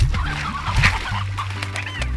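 Cartoonish chickens clucking in the farming game Slime Rancher, several quick cackles and clucks close up over background game sounds and a faint low hum.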